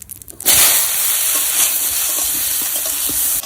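Sliced ridge gourd drops into hot oil left from frying fish, with spices, bursting into a loud, steady sizzle with scraping stirring strokes throughout and no voices.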